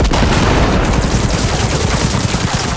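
A pulse rifle fires in Cyberpunk 2077 Phantom Liberty as a loud, continuous rapid volley that lasts the whole few seconds, with no talking over it.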